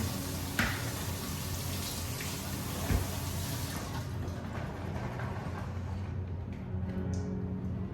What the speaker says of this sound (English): So I am going to do that right now, and just give them a rinse.